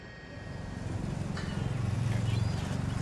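Horses clip-clop along at a steady walk, growing slightly louder as they approach, with a low engine rumble in the background.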